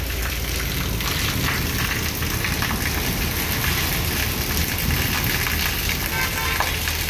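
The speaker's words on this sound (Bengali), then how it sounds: "আর কিছুক্ষণের মধ্যে বৃষ্টি থেমে যাবে বাবা।" Steady rain pours down outdoors during a sudden storm, a dense, even hiss of drops hitting surfaces throughout, loud and continuous with no voices.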